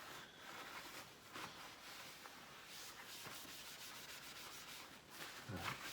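A cloth rubs across the table of a LUREM RD26 F wood planer to wipe off surplus, a quiet steady scrubbing with repeated back-and-forth strokes.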